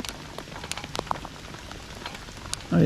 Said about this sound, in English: Oh yeah, it just starts raining.